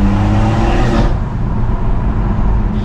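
A BMW M140i tuned to stage 2+ with upgraded intake and charge pipes drives along a damp road at sunrise, its engine a loud, steady drone that eases slightly after the first second and then holds.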